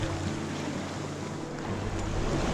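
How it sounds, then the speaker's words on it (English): Sailboat under way into Marsh Harbor in the Abacos, with steady broadband wash of water and wind noise on the microphone, plus a low hum throughout and no talking. "Sailing into Marsh Harbor."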